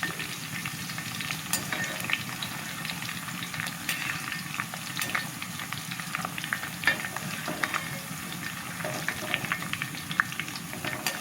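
Crushed garlic and curry leaves crackle and sizzle in hot oil for a mixture snack, with occasional stirring scrapes over a steady, close frying hiss and no voices.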